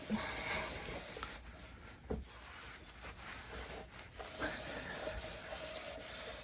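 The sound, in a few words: buffing a BMW R1200 GSA motorcycle with a microfiber cloth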